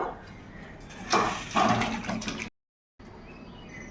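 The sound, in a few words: pouring cooked chela fish curry out of the pan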